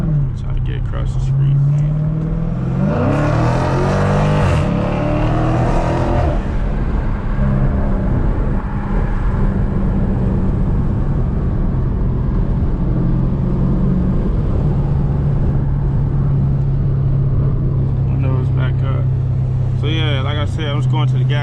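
A 2019 Dodge Challenger Scat Pack V8 rumbles steadily from inside the cabin while driving at night, swelling into a louder rev partway through before settling back to a constant drone, with talk over it.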